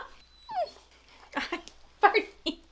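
A puppy whimpers and lets out several sharp yips in short bursts, close and moderately loud, with a quiet voice speaking in between.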